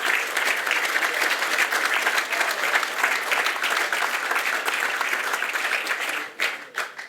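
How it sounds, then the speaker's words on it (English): Conference audience at an international horseracing authorities session breaks into a long round of applause for an invited speaker, steady crowded clapping that thins into a few scattered claps at the very end. "ask you to give him a big round of applause"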